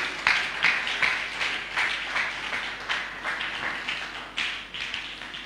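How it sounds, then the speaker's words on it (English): A church congregation claps together during a worship service in a loud, rhythmic run of hand claps. The clapping is steady and fairly close, and it carries on to the end without talking. "Can you give Jesus a clap offering?"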